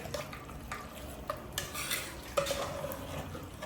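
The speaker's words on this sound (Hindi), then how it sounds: "हिला लेना है अच्छे से, एक बार मिक्स करके" Aloo gosht stirred in a pot, a spoon scraping and knocking against the metal in a few unhurried strokes over a faint background hiss.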